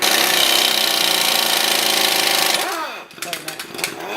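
A power tool drives a car's front axle nut tight with a 29mm socket, a loud steady buzzing hammer rattle for over two seconds that then stops, followed by lighter clanks and handling noises.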